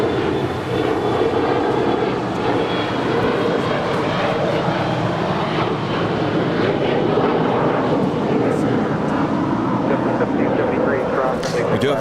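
A Virgin Atlantic jet on approach at Los Angeles International Airport after a flight from London, its engines making a steady, loud broadband roar that holds throughout, with a voice talking over it.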